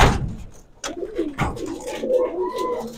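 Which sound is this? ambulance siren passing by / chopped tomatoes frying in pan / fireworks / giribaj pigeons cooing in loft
giribaj pigeons cooing in loft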